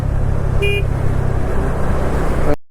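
Steady road traffic rumble heard from a Bajaj Dominar 400 motorcycle on a highway near Bangalore, with broadband engine and wind noise throughout and a brief horn toot early on, cutting off abruptly at the end.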